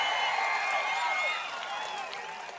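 Crowd applause at an election rally in Machilipatnam during the 2024 Andhra Pradesh campaign, a steady wash of clapping mixed with whistles and cheers that fades slightly toward the end.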